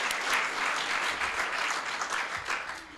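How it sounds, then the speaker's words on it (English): Steady applause from an audience fills a State of the City event in DeSoto, Texas, a dense, even patter of many hands clapping at moderate volume throughout. "We can clap right there."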